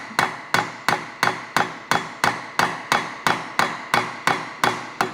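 Steady hammer blows drive an exhaust header pipe onto the spigot of a rebuilt Vespa P200 engine, about fourteen sharp metallic strikes at an even quick rhythm, each ringing briefly, loud and close with no talking.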